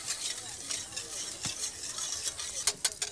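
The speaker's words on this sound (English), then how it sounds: "We whisk that in, along with a little bit of cream." Butter and cream whisked into a hot pan sauce, with quick scraping whisk strokes and a faint sizzle, ending in a few sharper clicks of metal on the pan, close and fairly quiet.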